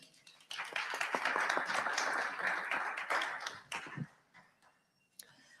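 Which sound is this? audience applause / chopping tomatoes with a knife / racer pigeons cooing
audience applause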